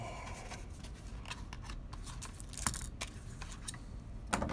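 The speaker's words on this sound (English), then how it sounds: "scissors aren't gonna help here." Scissors are handled while a Battle of Legends trading card pack is opened, giving faint scattered clicks and snips over a low steady background, with no talking.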